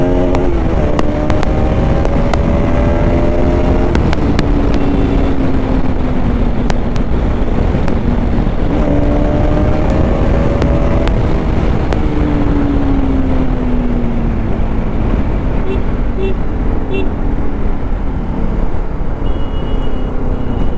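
A 2015 Bajaj Pulsar RS 200 motorcycle with six years and 30,000 km on it revs hard and close, its engine note climbing and falling through repeated high-rpm sweeps under steady wind buffeting.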